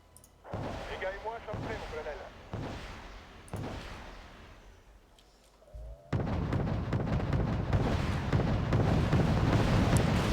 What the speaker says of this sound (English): I had not expected to shoot down all of those missiles.